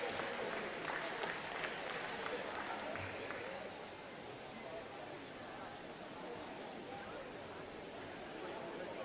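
Applause from spectators at an age-group summer swimming championship sounds in a reverberant pool hall, fairly distant and steady, easing slightly midway and continuing as a softer patter.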